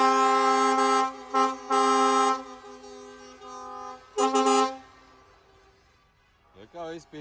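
Truck horns honk repeatedly at a truck meet in Engurē, Latvia: long, strong, harmonic blasts, several overlapping bursts, fading to quieter toots, while someone speaks near the end.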